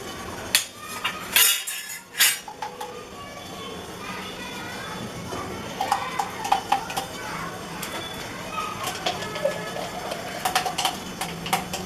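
Ghee goes into roasted semolina in a pan for sheera: a few loud metallic clanks of spoon and vessel, then a soft, crackling sizzle with light scraping and clatter that carries on close by.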